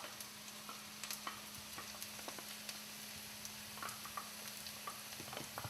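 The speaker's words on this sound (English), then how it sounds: "I'm going to add my garlic and ginger that has been diced up" Diced garlic and ginger fry quietly in a pan, a soft low sizzle scattered with small crackles and light ticks, faint and steady throughout.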